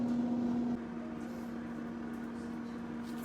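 Instant Vortex Pro air fryer running, a steady motor and fan hum with a constant tone, close and even, slightly quieter after the first moment, with no talking.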